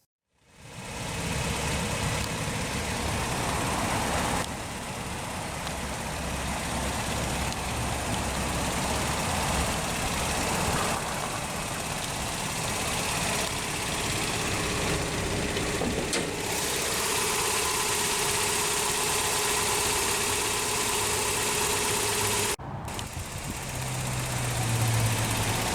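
A 1990 Toyota 4x4 pickup with the 22RE 2.4-liter single overhead cam engine idles steadily, a constant loud rumble with slight knocking texture and a brief dip near the end, no voices.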